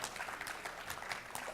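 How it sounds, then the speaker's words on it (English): At a school board meeting, a roomful of people applauds a group of budding young lawyers, a soft, somewhat distant patter of clapping holding steady for a moment. "Let's give her a big round of applause and all of these budding lawyers."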